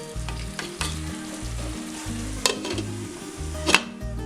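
Vegetables for a vegetable dum biryani sizzle steadily in a hot pan, with a spoon stirring them in regular scraping strokes and a couple of sharper clinks against the pan, close up and with no voices.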